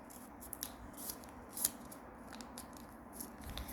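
Stiff paper being creased and folded by hand into an origami ninja star, with soft crinkles and rustles, a slightly louder crackle midway, at close range and fairly quiet.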